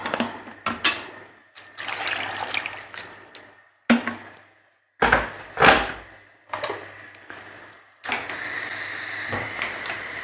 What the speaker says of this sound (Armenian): այս ջուրը լցնեմ